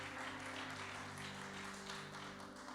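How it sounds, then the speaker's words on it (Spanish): A congregation at a church service claps together in sustained, steady applause that fills the whole stretch at an even, moderate loudness. "Dele un gran aplauso al Señor entonces."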